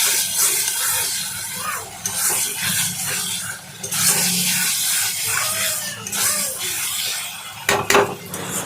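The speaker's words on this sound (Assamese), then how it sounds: "এতিয়া মই পানী দি দিম।" Water poured into a pan of masala being fried for an Assamese egg curry, a steady splashing wash with clinks of pots and utensils throughout, close and fairly loud.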